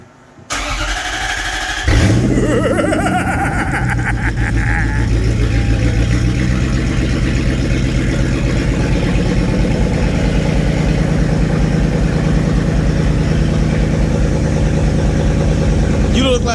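A Toyota 1UZ V8 in a 1994 Soarer with a manual gearbox swap cranks briefly, then fires and settles into a steady, deep, loud idle close by, with people talking faintly over the rumble.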